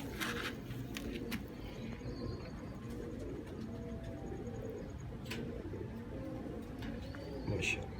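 Golden pigeons coo in soft, repeated low calls close by, with scattered rustling and light clicks around them and a voice speaking faintly in the background.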